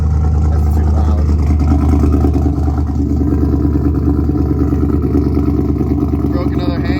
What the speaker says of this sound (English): I think this truck sounds horrible. I need to do exhaust work.